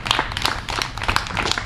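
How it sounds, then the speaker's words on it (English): Applause from a crowd at a county dairy show, a short burst of many hands clapping at steady, moderate loudness with no voices over it. "Let's give him a nice round of applause"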